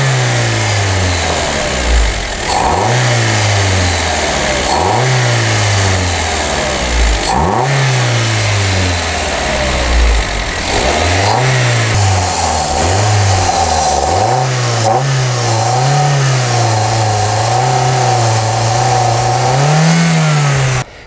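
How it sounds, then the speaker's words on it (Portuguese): Toyota Etios engine with about 155,000 km being revved during a decarbonization treatment, repeated rising and falling throttle blips over a steady idle, loud and close, then settling into a higher sustained rev toward the end. "mas é bom você dar uma acelerada"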